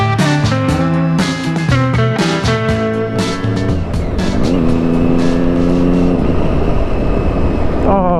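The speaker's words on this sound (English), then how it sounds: "listen to the sound of that engine" A Triumph Daytona 675 motorcycle engine revs loud and close on MOT day, rising and falling in sharp repeated bursts before settling into a sustained high, rasping drone.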